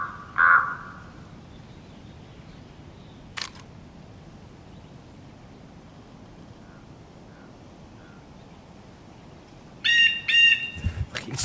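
A crow caws loudly in the DayZ survival game: one sharp call near the start, then a burst of repeated harsh caws near the end, over quiet outdoor ambience.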